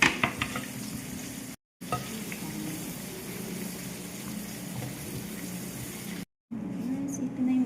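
Shrimp frying in a pan produce a steady, close sizzle with faint bubbling that runs almost without pause, broken only by two brief moments of silence.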